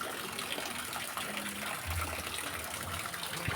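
Rainwater running across the ground after a downpour, a steady broadband wash of flowing water with a low gush swelling partway through, continuous and fairly close.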